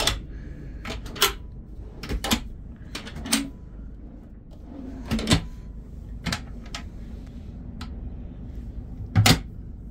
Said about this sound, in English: Bamboo drawers.